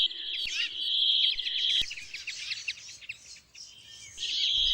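Many birds feeding on seed in a garden, with a dense, busy mix of high chirps and twittering calls from several birds nearby, rising and falling with a couple of sharp clicks.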